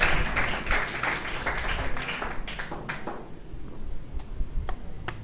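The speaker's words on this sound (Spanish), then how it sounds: "dale una alabanza, un aplauso fuerte al Señor" A church congregation gives the Lord a loud round of applause during a Spanish-language sermon on tithing. Dense clapping fills the first three seconds, then thins to a few scattered claps.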